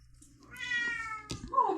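A pet cat named Anastasia gives a clear, close meow that rises and falls, followed by a second shorter meow, in a quiet kitchen.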